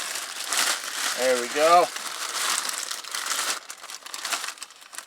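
An item from a cold-weather vehicle emergency kit is unfolded, making close crinkly rustles that rise and fall for several seconds while a person speaks briefly over them.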